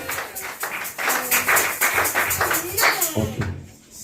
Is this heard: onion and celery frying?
no